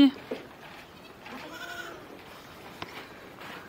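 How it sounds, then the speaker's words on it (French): Miniature goats coming in from pasture bleat a few times in a short, wavering call, mid-distance, over a steady outdoor background with faint voices. "les chèvres qui arrivent du pâturage"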